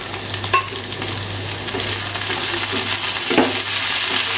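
Diced potatoes already fried red in a pan, with chopped tomato and green chili going in, give a steady sizzle with a few stirring scrapes and small clinks, close and fairly loud, with no talking.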